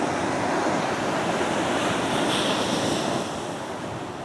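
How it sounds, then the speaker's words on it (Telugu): Ocean surf at Bekal Beach, running high near full moon, rushes and washes onto the shore in a continuous loud roar, with wind buffeting the microphone. "ఫుల్ మూన్ వస్తుంటే వేవ్స్ బాగా వస్తాయి కదా ఇప్పుడు"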